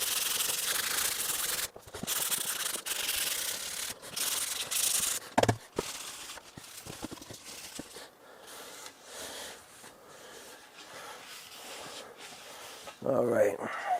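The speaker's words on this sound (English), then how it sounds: "Let's sand it back a little bit too." Hand sanding on antique furniture wood under restoration gives a close, continuous rubbing hiss in uneven strokes, with a few knocks and a louder scuff near the end.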